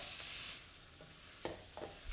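Chili and spices stirred in a frying pan, a soft scraping swish at the start followed by a few light clinks and scrapes of the utensil against the pan, with a faint sizzle beneath and no talking.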